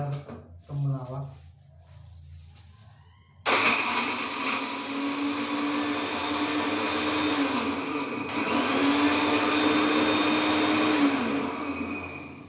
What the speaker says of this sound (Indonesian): Sekarang kita akan blender temulawak.